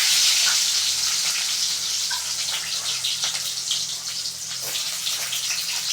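Small onions hitting hot oil for a Tamil fish curry, already tempered with mustard seeds and fenugreek, give a steady loud hissing sizzle with occasional pops, close up and without talk.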